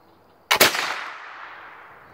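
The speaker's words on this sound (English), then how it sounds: "Don't stand next to the flintlock when it's about to go off." A black-powder flintlock muzzleloader fires once at close range: a single sharp, loud boom followed by a long, fading rumble, with no voices.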